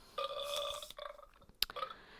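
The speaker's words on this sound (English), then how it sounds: "Did you do a burp?" A person's drawn-out burp, loud and close, rising and trailing off over about a second, followed by a few short throaty noises.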